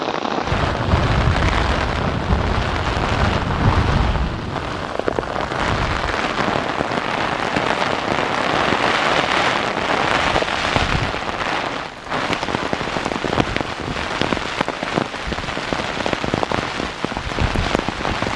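Heavy rain pours down at an outdoor railway location, a loud, dense and continuous hiss of drops drenching the surfaces nearby, with brief gusty surges.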